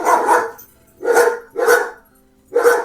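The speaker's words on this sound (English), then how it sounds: "Dog's in favor of anything she can bark at." A dog barks four times, loud and close, in an uneven pattern of two quick barks, a pause and then two more, with silence between them and no talking.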